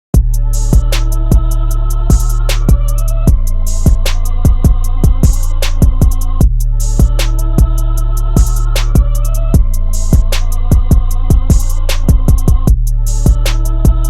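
A loud trap beat recreation, with booming 808 bass, punchy rack kicks, crisp hi-hats and a repeating melodic loop, playing continuously without any voices.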